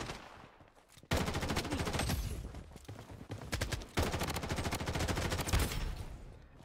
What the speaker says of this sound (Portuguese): O cara tocando tiro lá, ó.